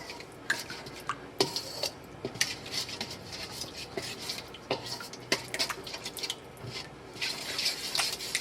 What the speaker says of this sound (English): Then I'm going to use a spoon, just give it a quick mix.